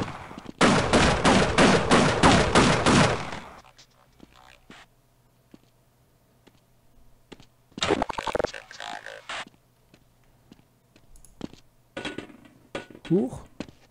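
Rapid bursts of gunfire in the shooter Half-Life, loud and dense for about three seconds, followed by scattered quieter clanks and shots while a voice talks intermittently.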